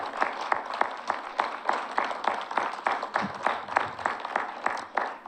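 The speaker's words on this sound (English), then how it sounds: "can you guys give your children a big round of applause?" An audience at an Oak Park art event applauds the children, with steady, fairly even clapping that holds at a constant level throughout and no talk over it.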